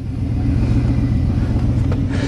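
A 1987 Chevy truck with no brakes, no power steering and its hood up rumbles as it drives off, a loud low steady engine drone with rough uneven grumbling close by.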